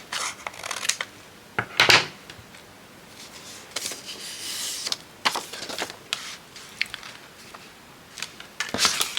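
Scissors snip off a small piece during an evening craft make. Short, quiet crisp snips come in scattered bursts with brief pauses between them.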